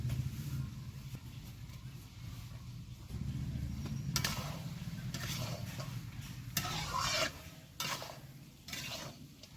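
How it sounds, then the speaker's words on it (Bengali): Goat meat being stir-fried with coconut in a pot, giving faint scraping and stirring with occasional utensil knocks against the pan over a low background hum; no talking. "দেখতে পাচ্ছ নারিকেল দিয়ে আমি কিভাবে মাংসটা ভালো করে কষে নিয়েছি আর একটু এইভাবে কষবো"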